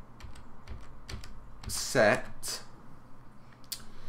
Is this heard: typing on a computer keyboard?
yes